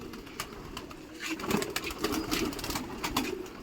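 Pigeons feed from trays on protein food, with soft pecking, cooing and wing shuffles close by, steady and fairly quiet.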